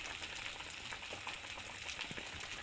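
Ground coriander and cumin fry in a pan, giving a faint, crackly sizzle with scattered soft pops and no talking.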